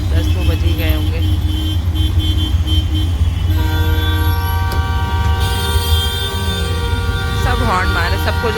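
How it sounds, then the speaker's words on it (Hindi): Morning traffic near the Tis Hazari district court in Delhi, with dense road noise and overlapping horn toots, including a long sustained honk partway through. "सब हॉर्न मारे, सबको जल्दी है, सबको निकलना है।"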